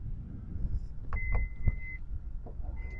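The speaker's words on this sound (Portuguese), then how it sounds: "Tampa aqui do porta-malas funcionando ok, ó." Tailgate of a 2020 Toyota SW4 Diamond turbo-diesel SUV opening or closing, with faint mechanical clicks and a soft thud, plus a brief steady beep, close by against low background rumble.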